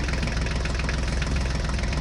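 A Massey tractor engine runs steadily up close, a low rhythmic throbbing knock that repeats evenly throughout without pause.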